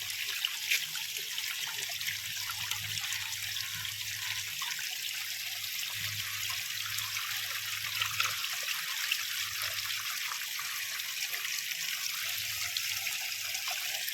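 Water overflowing from a village borewell after heavy rain in Dediyapada, a steady close hiss and trickle of running water that continues unbroken throughout, with no speech.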